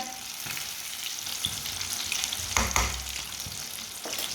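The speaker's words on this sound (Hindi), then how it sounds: "मच्छी हमारी फ्राई हो चुकी है" Fish frying in hot oil for a Punjabi-style winter dish, a steady close sizzle with a few louder bursts of crackle and spatter as the pieces cook.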